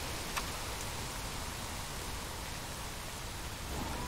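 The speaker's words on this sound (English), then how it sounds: "Maybe if I'm lucky it'll just stop raining" Steady, even rain hisses without a break in the video game Don't Starve: Hamlet, a broad wash of sound with only a faint tick or two.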